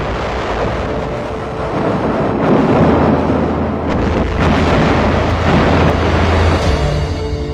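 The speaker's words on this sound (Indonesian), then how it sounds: "Apa yang kamu rasakan ketika mendengar ledakan bom selama 2 jam?" Deep, continuous rumbling booms of bomb explosions roll on without pause, a heavy low roar swelling and fading with no voices present.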